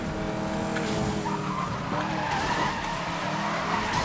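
A car in Need for Speed: Most Wanted (2012) races at speed, its engine roaring steadily with tire squeal and skidding throughout, loud and continuous with no talk.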